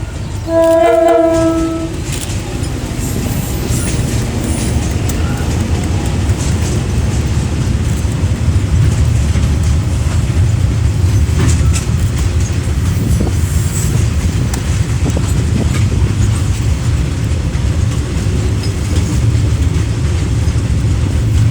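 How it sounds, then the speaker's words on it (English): A mainline diesel locomotive in old Tranz Rail black bumblebee livery passes close by, opening with a loud horn blast and then a steady heavy rumble of engine and wagons rolling past for a long stretch. "she is the last mainline diesel locomotive still running in the old Tranz Rail black or bumblebee livery"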